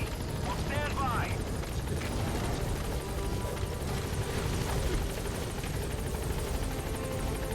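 A helicopter in Metal Gear Solid V: The Phantom Pain sets down at a landing zone, its steady rotor roar loud and continuous throughout, with game sounds and a voice faintly mixed in.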